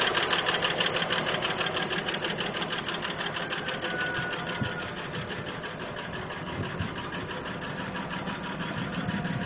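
An old engine from a vehicle left sitting for years idles steadily, heard from the back, with a rapid, even lifter tick clattering over the low running hum throughout.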